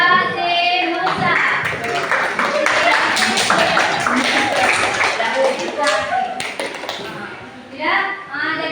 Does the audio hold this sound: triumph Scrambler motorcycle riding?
no